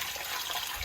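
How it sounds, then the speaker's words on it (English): Water pours steadily out of a boat engine drain plug, a continuous close hiss and splash with no talking. "all the water comes out."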